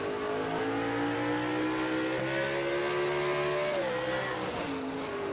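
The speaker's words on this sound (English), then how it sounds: "Riding on board with Jessica Shelton as we take a lap around with her at Sonoma" Onboard engine of a race truck lapping Sonoma Raceway in a Hunt Brothers Pizza Truck Series race, a loud steady drone with harmonic tone that holds high, dips briefly as the driver shifts or brakes, then pulls again.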